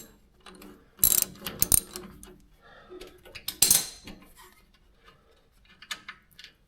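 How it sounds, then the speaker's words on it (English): Half-inch bolts are ratcheted out of the rear brakes of a 1999 Dodge Ram 2500 pickup, giving close metallic clicks and sharp clanks in a few loud bursts between quieter handling noises, with no talking. "Take out the 1/2-inch bolts."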